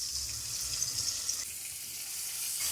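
Garlic and ginger paste frying in a pan for mutton korma, a soft, steady hiss of sizzling oil held at low volume throughout, with no voices.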